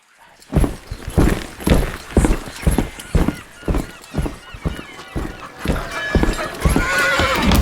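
Carriage horses clip-clop in a steady, close, rhythmic beat of hooves, with a hint of whinnying and background bustle that grows louder toward the end.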